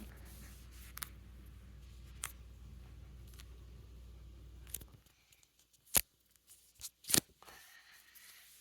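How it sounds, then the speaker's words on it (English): A soft slime swirled and squished by hand gives a few sharp, close clicks and pops, scattered irregularly after a stretch of quiet handling noise. "Wait, I want you to hear the clicking sound better."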